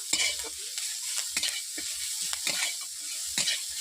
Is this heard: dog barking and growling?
no